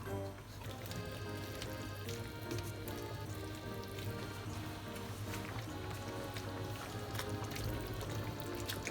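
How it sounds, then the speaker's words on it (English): Pork miso soup (tonjiru) with cabbage leaves coming to a boil in a pot on high heat, a steady close bubbling and light crackle under continuous background music. "So it comes to a boil."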